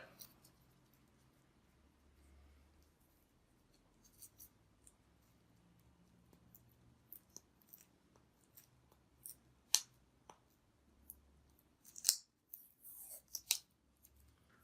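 Tape snips and crinkles near a Surface Pro 3 during dusting, quiet scattered clicks and rustles that grow into several sharper cuts and tape handling sounds toward the end.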